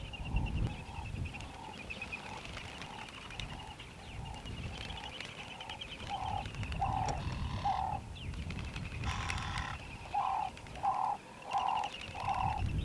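Namaqua doves calling at a Kgalagadi waterhole in the heat of the day, a series of evenly spaced soft hooting coos, faint and somewhat distant, with occasional chirps from other birds over quiet background.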